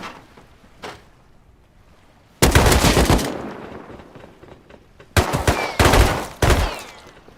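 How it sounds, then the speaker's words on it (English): Gunfire from NPCs shooting in the video game Rust: a loud sustained burst of automatic fire, a quiet gap, then two more close volleys, with a faint distant shot early on. "6 NPCs shooting each other in the head."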